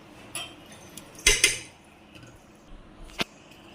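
A metal spoon clinks and scrapes against a cooking pot while garlic ginger paste goes in for Peshawari namkeen gosht, with a few sharp clatters amid a soft kitchen background.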